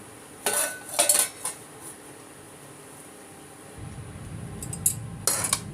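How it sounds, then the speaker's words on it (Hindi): A spoon mixing food with oil in a bowl, a few sharp metallic clinks and scrapes in short bursts separated by quiet stretches, close and crisp, with a low soft rumble joining in the second half. "अब इसको अच्छे से मिक्स कर लेना है।"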